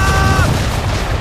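Deep booming ship cannon blasts in an Assassin's Creed III naval battle rumble loudly in a short burst, layered with crackling noise.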